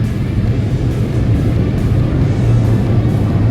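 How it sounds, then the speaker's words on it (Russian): A jet aircraft engine spools up for takeoff, heard from inside as a loud, steady, deep roaring drone that holds evenly throughout with no voices. "Реактивный двигатель включился, слышишь?"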